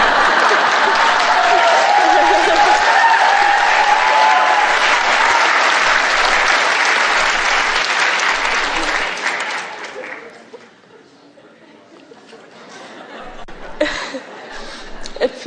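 Audience at an Abraham Hicks talk applauding, loud dense clapping for about ten seconds that fades out, with a few chuckles and scattered noise after.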